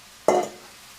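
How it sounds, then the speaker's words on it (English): A quick burst of scraping and sizzle as sauce is pushed from a bowl into a hot pan for Korean dakgalbi, one short stroke that fades into a quiet hiss. "Scraping down the sides of this bowl, get all the sauce in there."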